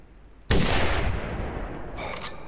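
A single sharp rifle shot cracks out at a Dall sheep during a hunt, a sudden loud blast that leaves a long rolling echo and decay over the following seconds.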